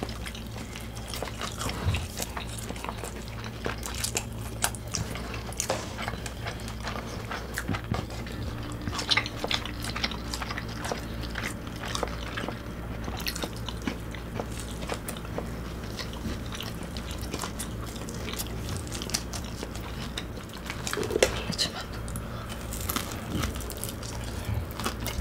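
Crispy fried dumplings and a burger are eaten at close range, with repeated crunchy bites and chewing broken by light clinks of cutlery and dishes over about 25 seconds, with no talking.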